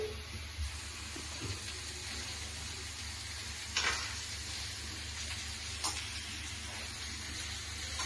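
Onions sizzle in a hot pan with a steady frying hiss, occasional stirring scrapes and small pops, quiet and close.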